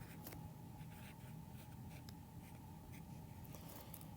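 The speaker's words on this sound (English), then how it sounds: "So write down your inequality." A pen writing an inequality by hand on paper gives faint scratchy strokes in short bursts, soft and close over a quiet steady background hum.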